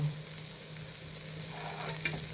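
Onion, tomato and garlic frying in oil in a home kitchen in Goa give a steady, quiet sizzle with faint stirring scrapes and a single sharper click near the end.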